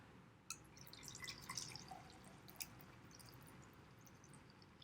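Hot water goes into a stiff homemade monoprint plate mixture, heard as faint, scattered drips and small liquid splashes over a quiet, hissy background.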